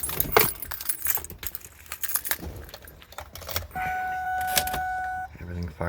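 Keys jangle as a car is switched on with the key in a cluttered home garage, followed by electric clicks, a whirring motor and a steady electronic tone, with a voice murmuring in the background.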